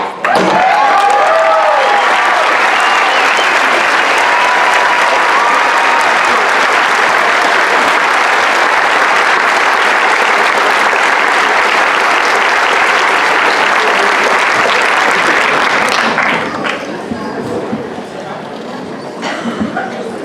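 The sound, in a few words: audience applause at a town hall meeting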